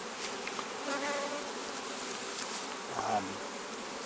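Many bees on a hive frame hum and buzz continuously up close, a dense droning swarm with individual insects flitting nearby.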